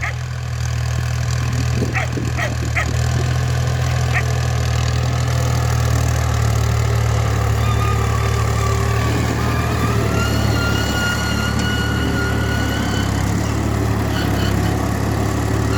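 A 480 tractor engine runs at a steady idle in a village, a continuous low rumbling drone with a few brief sharp knocks early on and no speech.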